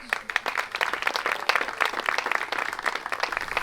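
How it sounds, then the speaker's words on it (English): A dense round of applause for the Lee family at a celebration, steady close-miked clapping from a small crowd that holds at an even level throughout. "Get a round of applause for the Lee's family."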